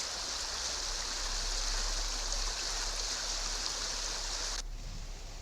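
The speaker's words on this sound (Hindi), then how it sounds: "यमुना नदी के साथ आसन, शीतला और स्वारना नदी उफान पर बह रही है" Swollen rivers in Uttarakhand, including the Yamuna, run in spate after heavy rain, a dense, continuous rushing roar of water that cuts off abruptly near the end.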